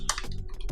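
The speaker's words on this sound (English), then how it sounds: "press Ctrl Shift C and I'm gonna type text" Quick keystrokes on a computer keyboard come in a short burst of about five or six close, crisp clicks, loud and near with no voices.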